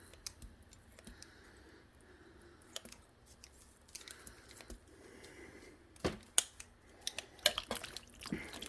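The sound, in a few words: cutting with scissors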